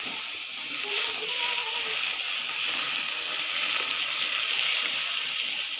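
Chopped onion sizzling in hot oil in a wok, a steady bright hiss and crackle of frying that holds evenly for several seconds, close and moderately loud with no talk over it.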